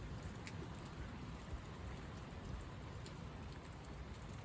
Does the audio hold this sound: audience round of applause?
no